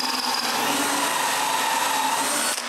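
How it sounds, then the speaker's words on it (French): A power drill boring deep, large holes into wood, a steady loud whine and grinding chatter that runs continuously before cutting off abruptly near the end. "Je perce le plus profond que je peux."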